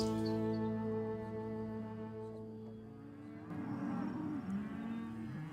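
A cow gives a long, loud, droning moo up close that fades into a lower, rougher lowing, heard alone over a faint outdoor background.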